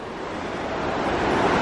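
An Icelandic river below a two-tier waterfall gives a loud, continuous rushing roar that builds slightly, with wind buffeting the microphone and no voices.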